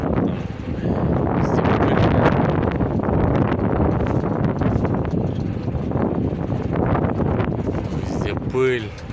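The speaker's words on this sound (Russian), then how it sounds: "Ветер очень сильно поднялся." Strong wind gusting outdoors around a Howo dump truck, a loud continuous rushing roar buffeting the microphone with rustling, ending in a brief whine.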